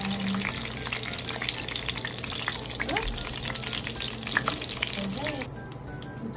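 Egg frying in a pan in a home kitchen, a steady crackling sizzle running throughout at close range, with scattered pops and faint clinks and no talk.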